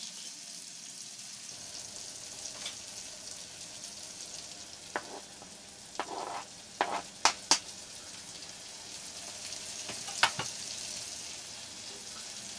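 Onions and garlic frying in a pan at a basecamp camp kitchen, a steady soft sizzle with a few sharp clinks and stirring scrapes rising above it now and then.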